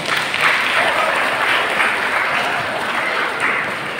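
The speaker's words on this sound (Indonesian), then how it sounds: "Tepuk tangan buat beliau." Loud, dense applause from a seminar audience welcoming a parenting trainer at a school hall, a sustained wash of many hands clapping evenly throughout.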